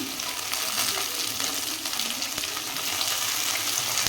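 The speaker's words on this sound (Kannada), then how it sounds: "ಇವೆಲ್ಲವೂ ಚೆನ್ನಾಗಿ ಫ್ರೈ ಆಗಲಿ" Chopped onion and tomato fry in a pan for North Karnataka-style roti oggarane, giving a soft, steady sizzle with faint crackles throughout and no talking.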